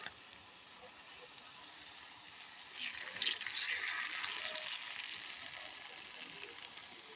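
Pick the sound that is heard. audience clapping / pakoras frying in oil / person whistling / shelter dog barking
pakoras frying in oil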